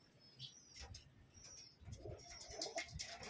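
A racing pigeon returns and lands on a roof, with soft cooing and brief wing flaps amid faint outdoor ambience and other distant birds, quiet and intermittent.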